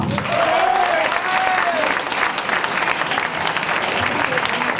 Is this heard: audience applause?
yes